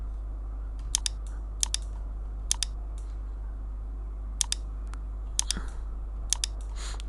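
Sharp computer mouse clicks in Moho illustration software, arriving in quick pairs and small clusters, close and crisp over a steady low hum, with no talking.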